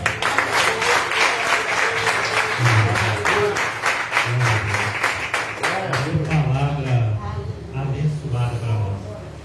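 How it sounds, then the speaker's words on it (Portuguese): A church congregation claps together in praise during a prayer-circle anniversary service, the rhythmic clapping mixed with voices for several seconds before fading into speech. "as palmas que louvam ao Senhor"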